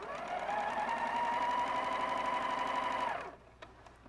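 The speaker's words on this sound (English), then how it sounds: "So let's just sew these two together." Sewing machine joining quilt pieces in one continuous close run of about three seconds, then stopping abruptly, with faint clicks afterward.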